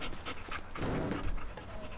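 A dog pants in rapid, steady breaths, close and fairly quiet, in the Teardown video game, with no talking over it.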